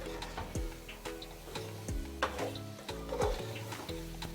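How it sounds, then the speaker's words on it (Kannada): Rice and chicken are stirred and fried in a pot for biryani, a spoon knocking and scraping against the metal in quick irregular taps over a faint sizzle. "ಅಕ್ಕಿನೂ ಕೂಡ ಚೆನ್ನಾಗಿ ತಿರುಗಿಸ್ಕೊಂಡು ಮಿಕ್ಸ್ ಮಾಡ್ಕೋಬೇಕು"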